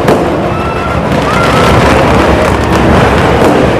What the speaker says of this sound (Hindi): ये उनका पटाखों के साथ इस्तकबाल हो रहा है।